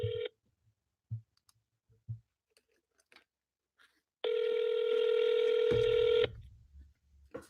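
Phone dialing clicks and a short ringback tone come through a handset on a real estate cold call. Sparse soft clicks and thumps are followed by about two seconds of steady, fairly loud ringing tone, then low rumbling noise.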